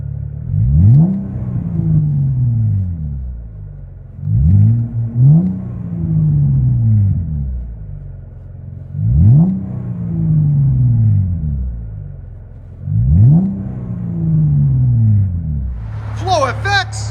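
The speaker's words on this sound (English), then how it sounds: "17 Camaro V6. Sounds phenomenal. I like it. It sounds like a V8." Heard from inside the cabin, a 2017 Chevy Camaro RS 3.6L V6 with an X-pipe and Flowmaster axle-back exhaust is revved four times. Each rev is a deep, booming rise and fall, separated by a steady low idle rumble.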